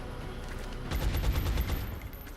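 Rapid burst of automatic gunfire in XCOM Long War, a dense rattling volley of shots lasting about a second, loud and close, with no talking over it.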